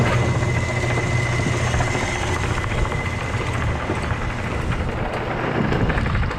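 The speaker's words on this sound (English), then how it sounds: "First thing I'm going to do is turn the conveyors on." Silo conveyors run with a loud, steady mechanical rumble and low droning hum that holds evenly throughout, with no voices.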